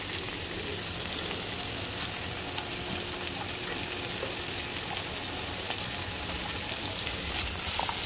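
Curry leaves and peanuts, with a little dal, sizzle steadily in hot oil in a pan. The crackle stays dense and even throughout, with no voices.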